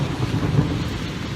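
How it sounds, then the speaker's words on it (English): Low thunder rumbles steadily under warm falling rain in Guangzhou, a dense continuous roll that stays loud and close throughout, with no voices over it. "There's thunder and there's lightning too."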